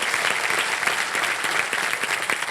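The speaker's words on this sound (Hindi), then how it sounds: "तालियां बज जाए अर्चना जी के लिए।" A TV quiz show's studio audience claps for a guest quiz expert, a dense and continuous wash of applause with no pause.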